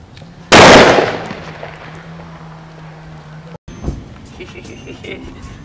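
A firecracker goes off with one sharp, loud bang that rings out and decays over a second, then a steady hum and faint outdoor noise, a brief dropout and a small thump, with voices talking nearby.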